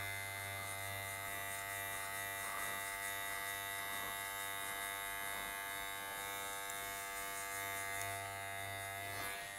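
Electric hair clipper fitted with a 1/16 guard buzzing steadily throughout, a constant mains-pitched drone with faint textured scraping as it moves, close and continuous with no talking.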